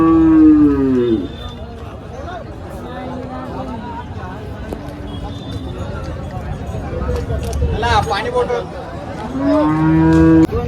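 Cattle moo loudly near the start and again near the end at a cow market, with people talking and a busy crowd murmuring in between.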